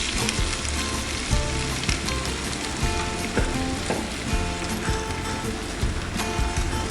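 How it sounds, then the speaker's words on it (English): Potatoes frying in oil in a pressure cooker for Mumbai street-style pav bhaji, a dense, steady sizzle that stays loud and close for the whole stretch, with small scraping and stirring knocks on top. "Now add all the potatoes here."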